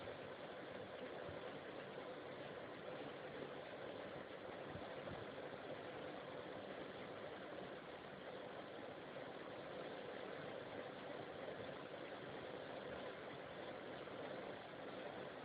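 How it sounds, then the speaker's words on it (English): A sewing machine stitches piping with a cord edge around a kurta collar, its motor running in one steady, unbroken whir throughout, close and fairly loud, with no talking. "I'm just started sewing all around"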